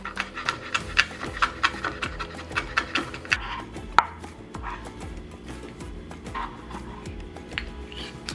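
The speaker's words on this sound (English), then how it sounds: "Next, we're going to mince our garlic." Garlic being minced with a knife on a board, rapid close blade taps in quick runs that slow and fade toward the end, for a slow cooker smothered pork chops dish; no voices.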